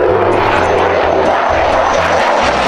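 A toy super jet plane plays a loud, close engine roar, a dense steady whooshing drone with no break for a few seconds.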